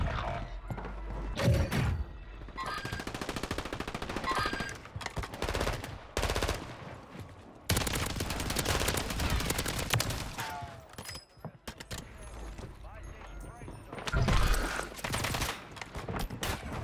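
Call of Duty Warzone gunfire, with repeated bursts of automatic fire and single shots spread through the stretch, loud and close with brief pauses between volleys and some mechanical clicks and thuds.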